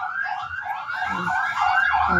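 A police siren wails during a street parade, a loud rising and falling tone that sweeps steadily over faint background rumble, with no talking.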